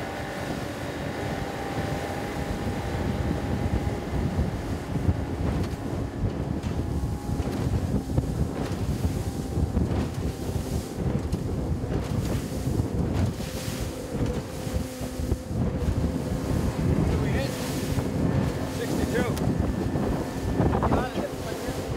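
A boat pitches through choppy cross waves at the mouth of the Fraser River, where strong tide and current meet; steady rushing water and gusty wind buffet the microphone throughout, loud and continuous.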